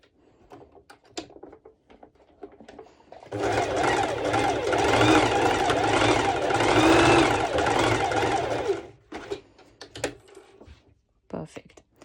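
Sewing machine running a straight stitch on a swim skort, a loud, steady whirring buzz of about five seconds, with brief handling clicks and taps before and after.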